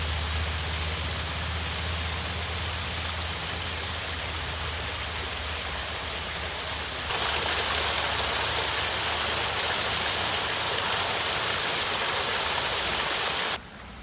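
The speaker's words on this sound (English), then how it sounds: "Nice to listen to the sound of the waterfall. Different layers of water flowing down." Steady rushing water from a layered waterfall in a Japanese garden pours without pause, a dense hiss that swells louder halfway through, with no voices.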